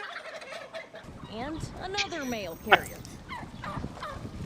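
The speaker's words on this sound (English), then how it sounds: "turkeys chasing down a postal worker" Wild turkeys gobble repeatedly in a flock, loud rippling calls stacked through the clip with a sharp peak near the end, while a news anchor talks over them.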